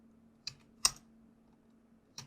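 Keys pressed on a computer keyboard while coding, three sparse crisp clicks spaced apart, close and quiet in an otherwise still room with a faint steady hum.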